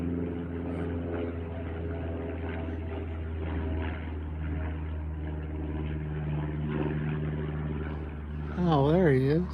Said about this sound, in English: I hear a plane, but I can't see him.